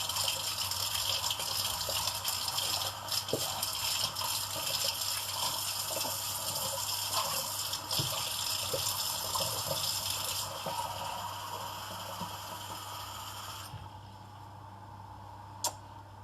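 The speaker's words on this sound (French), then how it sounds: "Je vais faire couler mon eau." Hot water runs steadily from a tap into a glass in a kitchen while making pastry, a continuous close rushing gush that stops near the end, leaving quieter room tone.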